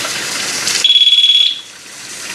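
A water leak detector in a sheet metal drain pan under a dishwasher sounds a loud, piercing steady beep for about half a second after running water, then the water noise continues more quietly alone.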